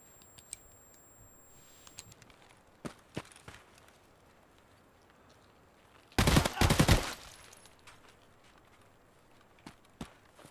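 A thin, high-pitched ear-ringing tone in Escape from Tarkov hangs over the opening two seconds, then cuts out. Scattered footsteps and clicks follow, with a loud cluster of rapid gunfire in the middle.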